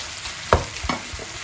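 Minced meat dropped into a pan of nearly cooked vegetables, with a soft thump and brief sizzle and stirring rattle, then a second smaller clatter against a low frying hiss.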